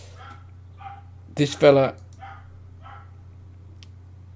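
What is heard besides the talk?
neighbour's dog barking next door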